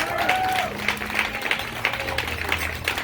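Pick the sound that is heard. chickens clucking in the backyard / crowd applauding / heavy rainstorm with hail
crowd applauding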